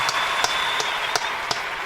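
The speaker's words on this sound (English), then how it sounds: "Nice round of applause." Applause from a game-night sound effect, loud sharp claps landing at a regular beat about every third of a second over a steady hiss.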